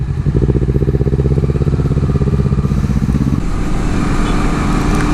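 A Honda CBR250RR motorcycle engine runs close by with a loud, rapid, even pulsing idle that steadies into a smoother hum partway through.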